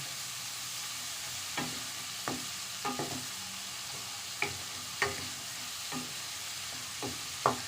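Onions frying in a pan for Bengali katla fish kalia, with a steady low sizzle and a series of sharp scraping stirs spaced through the clip, nearby and fairly quiet.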